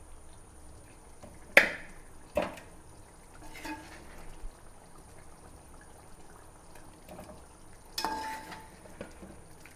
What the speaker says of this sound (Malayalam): അപ്പോൾ നമുക്കിത് കോരി മാറ്റാം ചട്ടിയിലേക്ക്